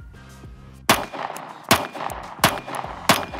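Four sharp, loud pistol shots from a Glock 43x and a Sig Sauer P365 Macro, spaced about three-quarters of a second apart, each with a short echoing tail, outdoors at a range.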